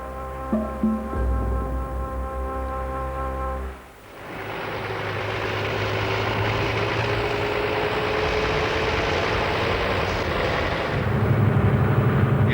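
A safari vehicle's engine drives through Tsavo game park in Kenya, a steady, close, low rumble that takes over after a few seconds of quieter sound and holds evenly to the end.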